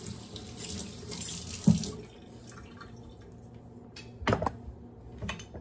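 A kitchen tap runs water over a banana being washed, a soft steady flow with a few sharper splashes and clatters as the fruit is handled, close by and without speech.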